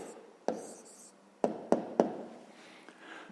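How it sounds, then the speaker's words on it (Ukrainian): Pen writing an answer to a 5th-grade maths exercise, a few sharp taps of the pen on paper followed by soft scratching strokes, close and quiet. "Ну що ж, записуємо тоді відповідь."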